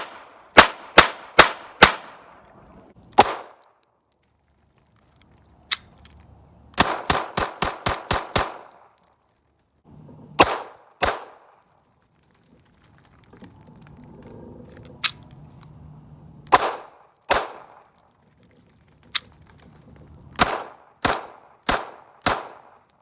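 A Hi-Point .380 ACP pistol fires a series of sharp, close single shots, some in quick runs and some alone, with short quiet gaps and faint handling noise between them.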